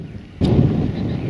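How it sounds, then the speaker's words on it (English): A single shotgun shot at a pheasant and partridge shoot booms out at a distance, a sudden low thud that rolls on through wind noise on the microphone. "There's a shot gone off."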